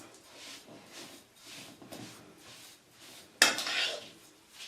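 A spoon scrapes and stirs roasted chickpea flour ladoo mixture in ghee, with soft rhythmic scraping strokes, a sharper metallic clink partway through, quiet and close.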